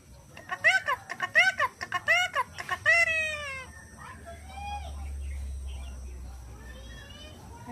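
Pet bird gives a run of sharp, repeated chirping calls in quick bursts, loud and close, then fades to quieter faint calls over a low background rumble.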